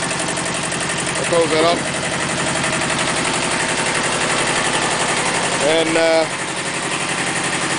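A Kubota B7000 tractor with a 2-cylinder Z650 diesel engine idles nearby, a steady rapid chugging clatter running throughout while someone talks over it in two short bursts.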